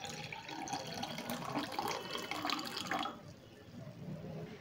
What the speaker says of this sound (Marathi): थंडगार पाणी ओतून घेऊ।